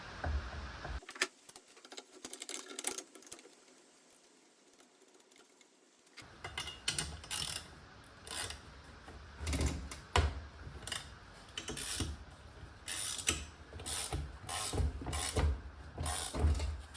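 Ratchet wrench tightening bolts into freshly drilled holes on a welding fume extractor build, heard as repeated close clicking bursts of mechanical ratcheting in a workshop, with a quieter stretch before the sustained ratcheting begins.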